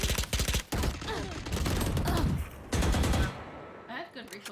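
Gunfire in a first-person shooter video game: rapid bursts of shots packed close together, heavy and dense through most of the stretch with brief gaps, while a player talks over them.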